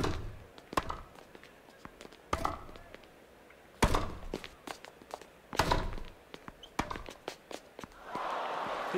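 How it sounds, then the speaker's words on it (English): Tennis ball strikes in Grand Slam Tennis 2: a run of sharp, punchy thwacks and thuds from serves and rallies at irregular intervals, with crowd murmur rising toward the end. "Oh, he's really thumped that ace."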